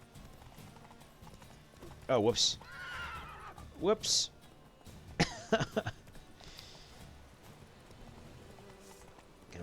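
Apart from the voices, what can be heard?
horse hooves and neighing in video game The Witcher 3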